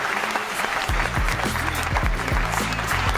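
An audience breaks into clapping on request, a crowd of hands applauding loudly over heavy low bass thumps from backing music.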